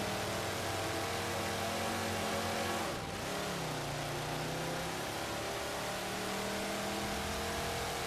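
Warthog vehicle from Halo 4 driving with a steady mid-pitched engine drone and rolling noise, pitch dipping and rising around the middle as it shifts speed, close and continuous.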